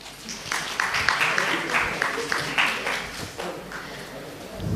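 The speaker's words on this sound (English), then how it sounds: "Audience can give a claps." An audience claps at a medical conference felicitation while a bouquet is presented, giving a few seconds of steady, moderately loud applause with a voice speaking over it.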